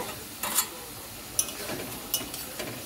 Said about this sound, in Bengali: এই যে আলু ভাজা হচ্ছে